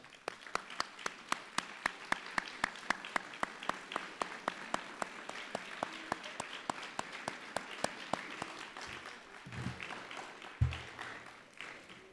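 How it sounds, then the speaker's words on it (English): Sustained applause from a large crowd of high school graduates at a graduation ceremony, dense and steady for several seconds before thinning out, with a few louder thumps near the end. "Graduates, please applaud."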